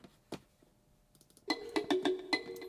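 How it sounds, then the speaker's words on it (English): Wood tongue tuned percussion playing a short melodic figure of quick, bright, plinking notes over a faint background, starting sparse and then becoming a denser, louder run of pitched taps. "it is wood tongue. This is what it sounds like."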